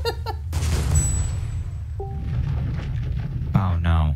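Artillery-style explosion in the tank game ShellShock Live, a loud rumbling blast with crackling debris, bracketed by excited voices talking before and after.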